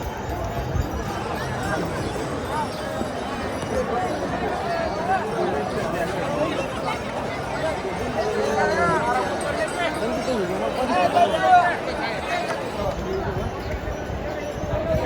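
A large crowd of pilgrims at the Pandharpur Vaari 2024 procession, a dense outdoor hubbub of many voices and footsteps with nearby people talking throughout, steady and close.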